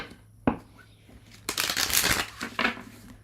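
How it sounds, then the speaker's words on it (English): Tarot cards shuffled by hand indoors: a sharp single riffle snap, then a longer burst of papery flicking and a final short shuffle, close and fairly quiet, with no speech. "Even though I'm still shuffling cards."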